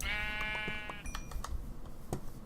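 A Minecraft sheep gives one clear, fairly close bleat lasting about a second, followed by soft clicking and tapping sounds at low volume.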